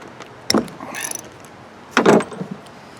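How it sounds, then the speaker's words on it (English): A ratchet loosens the 10mm bolt on a carburetor fuel bowl in two short bursts of close, crisp mechanical clicking, separated by a quiet pause. "now we can take off this bowl with a 10mm wrench or ratchet"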